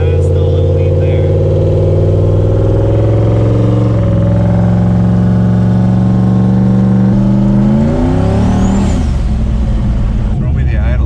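A turbocharged 6.0 LS V8 swapped into a Mustang idles loudly and close with a steady low rumble. Near the end the engine note dips and shifts in pitch.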